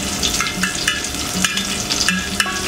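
Five green chillies sizzle and spit in hot oil in a pan, a steady dense frying hiss with occasional brighter crackles and soft stirring scrapes, close and continuous with no voices.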